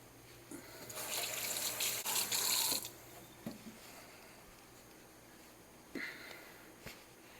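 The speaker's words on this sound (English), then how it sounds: "I'm going to wash my hands" Water runs from a kitchen tap for hand washing, a soft splashing stream lasting under two seconds, followed by faint scattered clinks and quiet handling noises.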